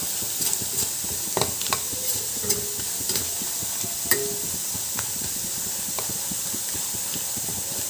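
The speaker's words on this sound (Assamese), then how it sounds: "এতিয়া হালধিটো দি অকণমান তেলতে লৰাই দিম।" Turmeric stirred and fried in a little oil in a pan, a steady close sizzle and hiss with scraping stirring taps at irregular intervals, no talking.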